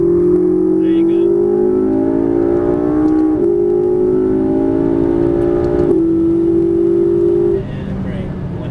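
A McLaren MP4-12C accelerating on a track, its engine note climbing steadily with several brief dips at gear changes, then easing off near the end. The sound is loud and close, with an instructor's voice at times.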